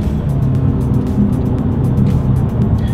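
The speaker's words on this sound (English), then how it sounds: "let's go ahead and do a quick little paddle shifter test, and let's see how quickly they react for us here." A 2020 Nissan Altima sedan with a CVT and all-wheel drive, its engine droning steadily and loud in the cabin with a broad low rumble and slight rises in revs, no talk heard.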